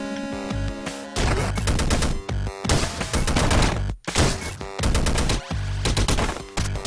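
Weapon fire in the video game Downwell, repeated rapid bursts of loud, crackling gunfire separated by brief gaps, with one sharp cut to silence midway.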